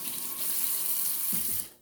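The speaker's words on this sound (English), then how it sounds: "I'm running the blade underwater so that we can get bits of the stone and also the like metal bits coming off of the blade" Tap water runs steadily over a knife blade while it is sharpened on a stone, a continuous close hiss and splash lasting under two seconds before cutting off.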